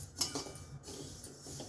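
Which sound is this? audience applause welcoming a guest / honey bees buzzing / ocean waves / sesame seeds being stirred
sesame seeds being stirred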